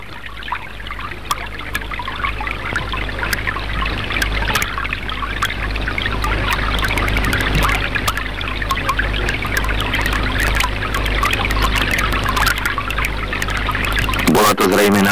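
A creek flows and trickles steadily throughout, a close, continuous rush of water with faint splashes, as someone washes and rinses a sweaty shirt in the stream.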